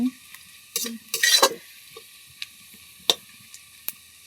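Sliced onions fry in a pan for a moong dal and drumstick-leaf dalma, giving soft sizzling with a few scraping stirs early on, then sparse sharp clicks and taps over a faint hiss.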